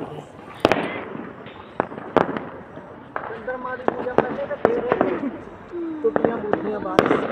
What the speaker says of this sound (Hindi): पटाखे चला रहा है